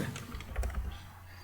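Quick keystrokes on a computer keyboard, a run of light clicks entering a short command, close and fairly quiet over a low background hum.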